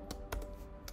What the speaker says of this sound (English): I'm gonna click delete on my keyboard and nothing happened